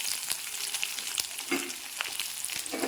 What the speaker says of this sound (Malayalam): ഇതിലേക്ക് ഞാൻ ചെറിയ ഉള്ളി ഇട്ട് കൊടുക്കുകയാണ്.